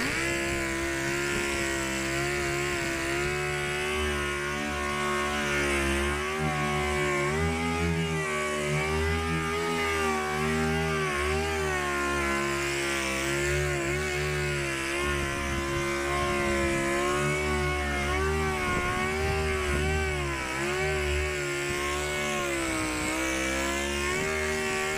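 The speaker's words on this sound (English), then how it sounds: "Let's start sanding." A power sander whirs continuously over Toyota Tundra paint fitted with 3000 grit sandpaper, a loud steady motor drone with small pitch wavers as pressure shifts, running unbroken throughout.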